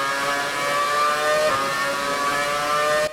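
A 2009 Brawn GP Formula 1 car in F1 2018 pulls out of the pit lane, its high-pitched engine wailing in a steady, loud, close drone with a brief rise in pitch midway before cutting off.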